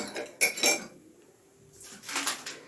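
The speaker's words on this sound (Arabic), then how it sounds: "هنحط فيها 3 معالق من السكر" A metal spoon clinks twice against a cup, then after a quiet pause comes a soft scraping of sugar being scooped and another light clink, close by.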